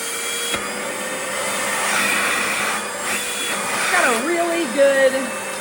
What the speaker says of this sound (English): it is loud, of course, because it's a vacuum